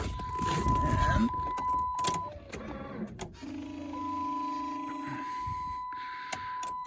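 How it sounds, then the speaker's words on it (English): A truck in arctic cold fails to start: the key clicks, then a steady electrical whine holds for a couple of seconds with chimes around it, and the engine never catches. A short voice is heard early on. "And let's start my truck."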